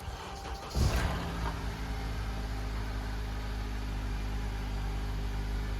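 A car with a broken CV axle and no working gears cranks and catches with a brief loud burst, then settles into a steady mid-pitched idle hum that runs on alone.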